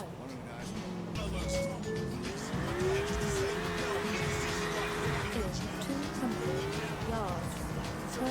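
Car driving in Grand Theft Auto IV, in the rain: a continuous engine drone with rising and falling revs and tire squeals while someone talks over it throughout.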